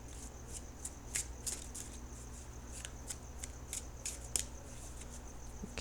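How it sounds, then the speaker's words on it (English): Tarot deck shuffled up close, a run of quick light card flicks and slaps repeating irregularly over a steady low hum, faint and with no speech. "I'm going to shuffle for the outcome card."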